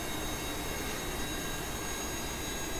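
Steady, loud roar from the jet engines of several micro Harrier VTOL aircraft in Kerbal Space Program, a continuous broadband whoosh with a faint high whine and no pauses.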